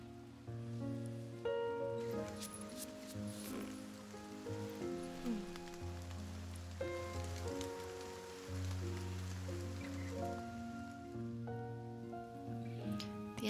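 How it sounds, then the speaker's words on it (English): Rain patters on a street, a soft steady wash of drops heard at moderate distance, while a sustained musical backing with low tones plays throughout. "The endless patter of rain on the street creates a wordless song."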